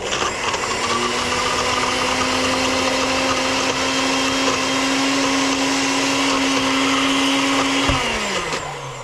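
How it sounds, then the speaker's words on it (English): Kitchen blender whirring through salsa, a loud, steady motor drone with a constant whine that runs unbroken for about eight seconds before winding down at the end, close up and without talk. "And then you blend it."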